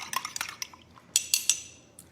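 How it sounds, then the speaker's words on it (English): A spoon stirs coffee in a cup, making a quiet run of light clinks and taps against the ceramic, with a few sharper knocks further on. "I'm taking my coffee, giving it a stir."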